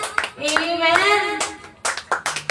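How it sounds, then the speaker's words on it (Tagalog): A worship congregation claps for the Lord during a praise service, bursts of hand claps mixed with a sustained sung or shouted voice, then scattered separate claps near the end. "Sige na, palakpakan natin ang ating Panginoon"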